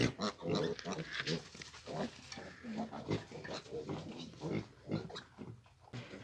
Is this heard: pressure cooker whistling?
no